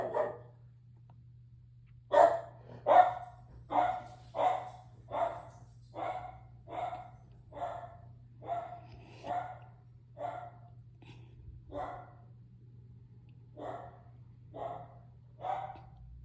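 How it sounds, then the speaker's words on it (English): A pet dog barks in a steady series of about a dozen sharp, mid-loud barks spaced roughly a second apart, heard indoors over a constant low electrical hum, with no talking. "My dog's having a little fit."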